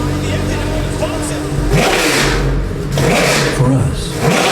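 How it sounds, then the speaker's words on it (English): A Porsche 911 GT3 R Rennsport race car engine revs and accelerates close by, loud surging pulls rising and falling in pitch, with voices talking over it. "He's going to try the engine"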